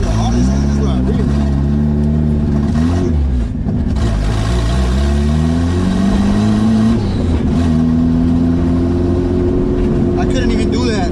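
A car engine running on E85 fuel, nicknamed the green dragon, revs repeatedly, its pitch rising and falling close by; the engine stays loud and steady for the full stretch, and voices talk under it.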